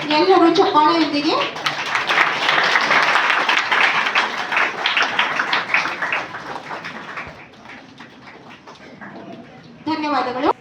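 Crowd applause at a public ceremony where the Chief Minister flagged off 100 new BMTC buses, a sustained clapping burst that fades, with someone speaking before and after.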